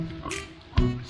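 A pig oinks at dusk on a farm, a brief close grunt in the middle of the moment over low rustling background noise.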